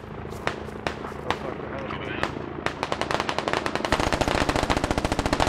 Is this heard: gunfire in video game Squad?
yes